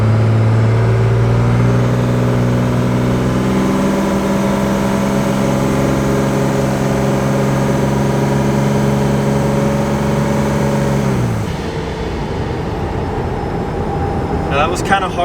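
A boosted 5.9 Cummins diesel truck engine revs steadily and loudly with a droning, rising tone for about eleven seconds, then drops off into rougher rumble and clatter.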